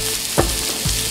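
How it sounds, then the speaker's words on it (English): Tandoori meat sizzles hard on a hot serving plate in an Indian restaurant, a loud, steady crackling hiss close up with a couple of brief spitting pops. "It comes sizzling hot on a plate"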